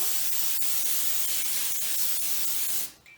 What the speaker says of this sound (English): So we'll give it a good spray all the way around.